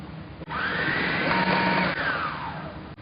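An electric mixer whirs steadily through cheesecake batter for a New York style cheesecake, a loud continuous motor drone with a slight tonal whine that runs for about two and a half seconds and then tapers off.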